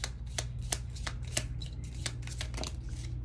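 Tarot cards are shuffled close by in quick, papery riffles and flicks that come in a dense burst over a low background hum.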